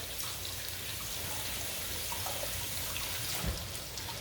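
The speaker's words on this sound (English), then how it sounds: "wash my hand" Steady running tap water splashing over hands in a home kitchen, continuous and close, with no talk.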